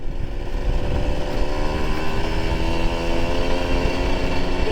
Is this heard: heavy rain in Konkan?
no